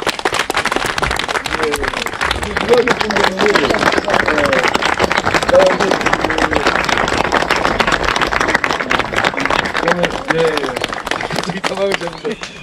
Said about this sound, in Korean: 우리가 고맙다는 좀 박수 한번 쳐주시기 바랍니다